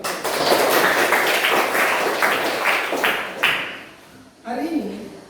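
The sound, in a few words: class clapping hands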